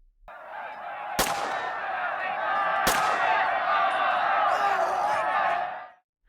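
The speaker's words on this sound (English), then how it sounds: "the last sounds you hear are screams and gunfire" Two sharp gunshots ring out amid a dense crowd of shrieking, wailing screams that hold steady and then cut off abruptly.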